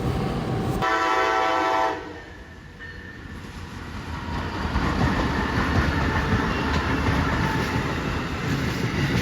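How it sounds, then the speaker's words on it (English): Amtrak P041 and P040 pass in a downpour near Plant City, Florida: a loud, sustained horn blast sounds close by, then fades into the rumbling roar of the train passing through steady rain. "Wow, that train gave me such a nice horn show."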